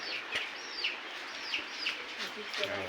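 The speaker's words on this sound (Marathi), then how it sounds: "कोंबडी तिथे" Soft, fairly distant clucking from chickens, a few short calls scattered over quiet background noise and faint voices.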